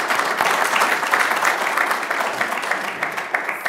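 An audience at a venture mentoring network lunch applauds Terrence with loud, continuous clapping that tapers slightly toward the end.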